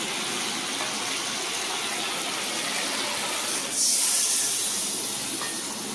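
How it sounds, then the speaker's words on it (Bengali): Water goes into a pan of frying red and yellow mustard paste with turmeric, a steady loud hiss and sizzle that swells into a sharper burst of steam near the end. "পরিমাণ মতো জল দিয়ে দেবো।"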